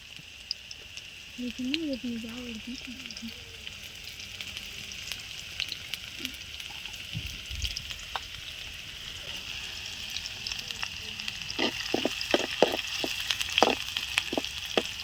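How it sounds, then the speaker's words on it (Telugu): Red onions and green chilies frying in oil for vegetable noodles, a steady soft sizzle running throughout with a few sharper crackles and pops building near the end. "ఎర్రగడ్డ పచ్చిమిర్చి రెండు నూనెలో ఇలా కొంచెం గోల్డ్ కలర్లో వచ్చేదాకా వేపుకోవాలి"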